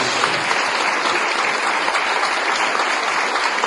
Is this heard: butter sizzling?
no